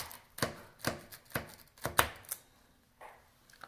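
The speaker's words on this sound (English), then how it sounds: "I have a sharp knife. I'm gonna go ahead and cut it." A sharp knife cuts through hard Italian almond torrone, five crisp crunching chops at an even pace, followed by a fainter scrape.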